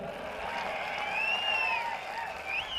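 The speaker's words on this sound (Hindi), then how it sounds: "देखो महिलाएं ताली बजा रही है, पुरुष ताली नहीं बजा रहे।" A crowd of women at an election campaign rally in Solapur claps in sustained applause, a steady wash of hand claps lasting the whole moment, with some faint voices above it.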